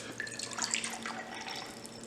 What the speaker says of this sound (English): So I'm adding my water to the glass.